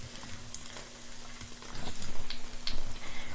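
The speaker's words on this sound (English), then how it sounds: "But here are the eggs cooking." Eggs fry in a pan for homemade fried eggs, a steady close sizzle and crackle with small pops that grows louder partway through, with no talking.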